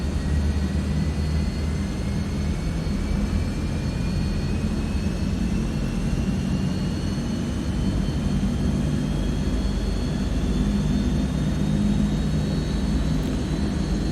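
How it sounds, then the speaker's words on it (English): A C160 Transall aircraft's engines run up steadily and loud throughout, a continuous roaring drone with a rising whine, no speech over it. "Okay, and the engine's running up."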